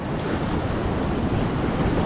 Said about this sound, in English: a nice big curled wave